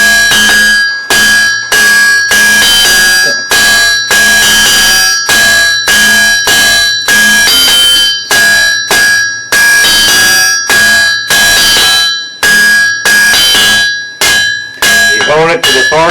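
Steady hammer blows ring out on an anvil as a fire poker's point is drawn out at the forge, dozens of bright metallic clangs in quick regular bursts with brief pauses between, loud and close.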